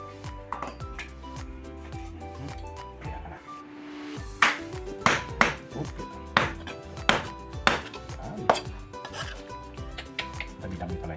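A knife chops raw octopus on a board in a series of sharp, irregular knocks, close and clear, with low background hum and music-like tones underneath.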